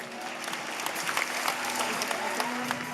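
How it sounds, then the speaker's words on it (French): Steady audience applause at a secondary school awards ceremony fills the whole stretch, dense and even, with a few sharper claps standing out near the front of the crowd. "On applaudit, on a raison de le faire"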